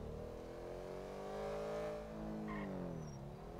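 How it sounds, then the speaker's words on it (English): In GTA V with the LSPDFR police mod, a car engine is revved, its pitch climbing, holding and then dropping back in a couple of smooth swells, loud and close with no talking. "Let's rev it a little."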